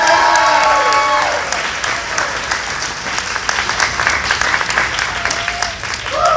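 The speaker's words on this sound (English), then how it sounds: "Please give them a big round of applause" A convention audience applauding for panel guests Caitlin Glass and Elizabeth Maxwell at a My Hero Academia panel at Bell County Comic Con, loud dense clapping with a few cheers, steady for several seconds as a voice trails off at the start.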